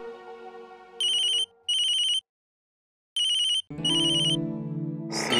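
An incoming phone call from the CA rings out loud and close in bursts: two rings, a pause, then another that is cut off as voices and background music come in.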